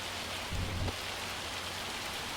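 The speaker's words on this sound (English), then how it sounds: "Got hail." Hail from the weather in Farming Simulator 25 makes a steady wash of dense patter, close and even throughout, with a short swell of heavier low rumble near the start.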